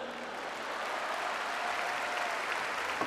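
A large festival crowd at a comedy show at Viña del Mar applauds in a steady, dense wash of clapping that holds evenly throughout, heard from a distance with no speech.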